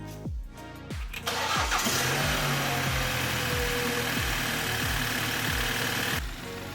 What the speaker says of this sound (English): throw on the engine cover and start the car